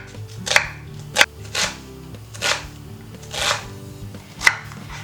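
An onion is finely chopped with a knife, sounding as a series of crisp, close knife strikes on a board, about six distinct bursts spaced roughly evenly over a low background hum.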